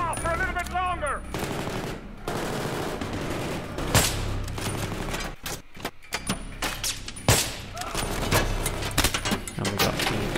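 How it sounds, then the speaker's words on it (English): Assault rifle gunfire in Battlefield 3 on Xbox 360, a dense run of rapid automatic shots with loud single cracks and thuds against a busy battle background. "I'm just going to use the assault rifle on him, then reload and get the other guy."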